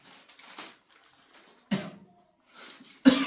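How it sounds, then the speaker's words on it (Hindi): Two sharp coughs, close and fairly loud, separated by a pause, with faint rustling and quiet background sounds between them. "आज तो खांसी हो रहा है"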